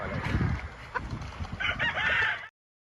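Gamefowl roosters on a farm crow and cluck at close range at feeding time, a loud crow followed by overlapping clucks before the sound cuts off abruptly.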